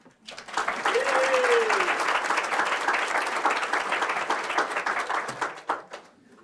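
Sustained applause from an audience welcoming a speaker at a talk about bees, a dense even wash of clapping that swells quickly, holds steady and tapers off at the end, with a brief voice over it early on.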